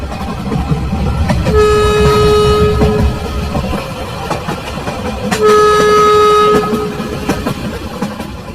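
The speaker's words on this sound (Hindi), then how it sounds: "ये ट्रेन रात के 2 बजे हमें चूहापुर पहुंचाएगी।" Cartoon train rumbling along steadily with a loud sustained horn blast near the start and another around the middle, over continuous rolling rail noise.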